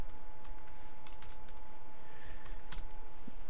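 Someone types a search into a computer keyboard on a PC, producing a short run of crisp, fairly faint keystroke clicks at an uneven rhythm over a quiet room hum, with no talking.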